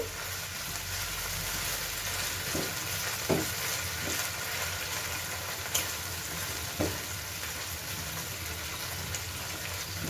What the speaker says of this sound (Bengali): এবার একটু এগুলো নেড়ে চেড়ে নেব